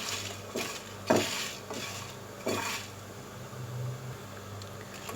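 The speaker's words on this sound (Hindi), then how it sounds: "इसलिए हमने मुस्तकिल स्पून से स्लो फ्लेम पर स्टीयर करना है" Spoon stirring cumin, coriander seeds and whole red chillies as they dry roast in a pan over a slow flame, a few sharp scraping clinks against the pan over a low background hiss.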